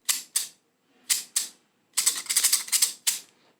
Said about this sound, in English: These are the stainless wave pattern scissors.